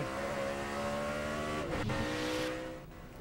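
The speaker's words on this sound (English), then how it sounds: "You hear the back tires just spinning" Rear tires of a NASCAR Busch Series race car spinning during the 2007 NAPA Auto Parts 200, a loud, sustained engine roar with a tonal whine that dips briefly, then fades slightly.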